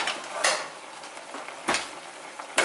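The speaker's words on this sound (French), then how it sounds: "je remue" Flour-coated beef being stirred in a pot for boeuf bourguignon, a soft sizzle under a few scraping spoon strokes against the metal, spaced irregularly and fairly close.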